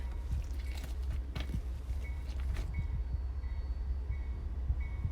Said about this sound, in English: when the train goes by